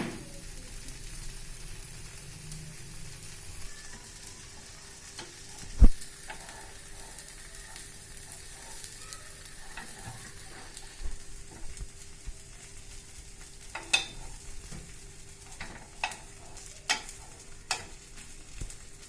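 An instant ragi millet dosa crisps in a little oil on a hot pan, giving a faint, steady sizzle with occasional small pops and clicks.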